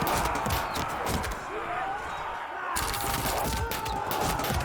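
Troops fire a volley in the Field of Glory 2 strategy game: a dense, continuous burst of crackling shots, a brief thinning in the middle, then another loud rattling volley.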